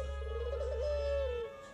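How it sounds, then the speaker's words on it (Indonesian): A puter (turtle) dove coos in one sustained, smooth, wavering note over a steady low hum, close and fairly clear, with no other sounds around it. "Suara anggungannya yang konstan dijadikan sebagai alarm pemecah kesunyian saat malam sepi."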